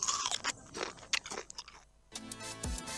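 Crunching and chewing on a creamy, crunchy Bisco Coaster biscuit in a TV advert, with a few close, sharp bites over background music and effects.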